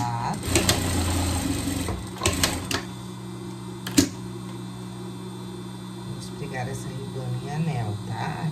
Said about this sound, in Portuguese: Pra dar acabamento, eu vou na overlock e já volto pra mostrar pra você